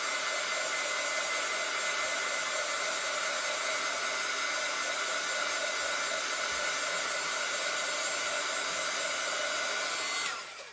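A hair dryer blows steadily on a painted craft deer being made into a Christmas magnet, a loud continuous whoosh lasting about ten seconds before it cuts off abruptly at the end.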